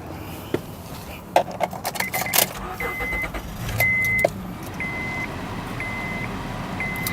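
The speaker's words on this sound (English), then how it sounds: "I'm going to go ahead and start the vehicle for us, so you can see how it starts up on the very first try." A 2006 Honda Odyssey minivan engine cranks briefly and catches about midway, with a steady idle underneath. Repeated electronic warning chimes sound at regular intervals, close and moderately loud, with no talking.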